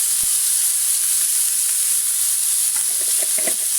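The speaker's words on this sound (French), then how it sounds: "j'ai fait chauffer une poêle. Et hop là. On va faire rissoler tout ça." Turkey pieces browning in a preheated frying pan, giving a loud, steady hiss of sizzling fat with a few faint clicks and crackles near the end, with no talking.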